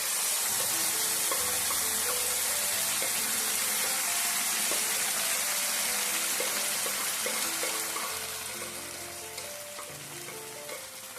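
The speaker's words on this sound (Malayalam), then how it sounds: "ഈ നെയ്യ് ഉള്ള ഈ പാത്രത്തിലോട്ട് നമുക്ക് വേവിച്ച് വെച്ചിരിക്കുന്ന അരിയും പരിപ്പും കൂടി ഇട്ട് കൊടുക്കാം" Cooked rice and lentils tipped into hot ghee in a pot for sharkara choru, giving a loud, steady sizzle and crackle that fills the whole stretch and eases slightly toward the end, with no voices.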